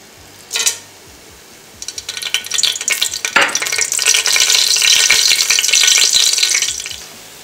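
Whole spices such as cinnamon, cloves and cardamom dropped into hot ghee for a Kerala-style chicken biryani, a brief clatter followed by rising, steady sizzling and bubbling frying noise with occasional utensil scrapes.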